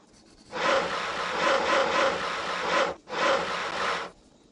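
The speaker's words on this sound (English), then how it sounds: "Use your saw to cut out the boards for the sides of the skyscraper." Sawing through boards in the Tonka Workshop game: two bursts of rasping back-and-forth strokes, the first about two and a half seconds, a short pause, then a second one-second burst, loud and close with no talk.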